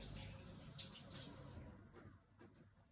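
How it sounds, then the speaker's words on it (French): Water running steadily from a kitchen tap as hands are rinsed with soap during egg-based dessert preparation, a continuous close splashing hiss that shifts slightly as the hands move under the stream. "passage à l'eau des mains avec du savon"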